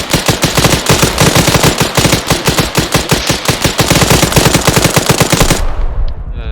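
Dense, rapid automatic gunfire from a video game, loud and continuous bursts for several seconds before cutting off abruptly into a fading ringing tail.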